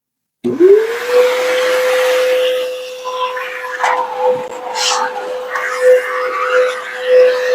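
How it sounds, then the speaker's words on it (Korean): A backpack vacuum cleaner spins up with a rising whine, then runs as a loud steady high-pitched drone close by, with a voice talking over it and some rustling as the machine is used. "배낭형 가방을 메고 하는 이런 배낭형 청소기를 많이 요구하고 있습니다"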